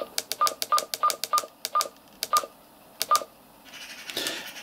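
Button presses on an Anytone 588 radio while stepping through its menu: a rapid series of sharp, close beeping clicks, about a dozen in quick irregular bursts, followed by a short soft rustle.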